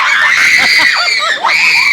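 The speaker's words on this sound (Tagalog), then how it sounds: "isang sigaw lang." A group of schoolchildren shouts together in loud unison in two sustained bursts with a brief break between them.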